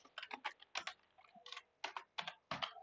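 Fingers tapping out a short line on a computer keyboard, quick bursts of clicky keystrokes with brief pauses between words, close and fairly quiet, no talking.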